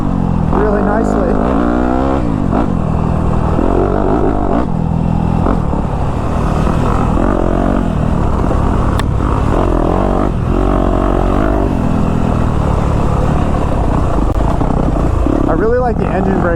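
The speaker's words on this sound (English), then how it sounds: "Four-stroke in the woods. The power band is so nice and smooth." A four-stroke 250F dirt bike rides through dry woods, its engine droning loud and close throughout with shifting revs, while a rider talks over it.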